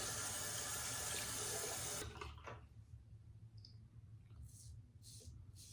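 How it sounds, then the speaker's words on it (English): A bathroom sink tap runs strongly for about two seconds during a razor shave, then shuts off, leaving quiet room tone with a few small clicks and brief water splashes. "Get some more water in there."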